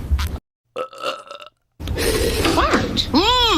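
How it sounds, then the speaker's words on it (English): A loud, drawn-out cartoon burp in a burping contest, preceded by short voiced bursts and followed by a comic warbling sound effect, all close and prominent. "We're having a burp contest, Mom."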